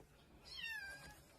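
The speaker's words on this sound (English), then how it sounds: "Open it up, and it's a kitten. It's 2 kittens." A kitten lets out one drawn-out, falling meow, faint and somewhat distant above a quiet background hiss.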